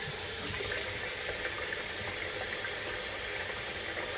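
Tap water runs steadily into a sink while something is rinsed off, a continuous close hiss of flowing water with no talking.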